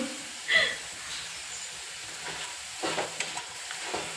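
Egg and potato pieces fry in a pan, giving a faint, steady sizzle with a few soft stirring scrapes and clinks.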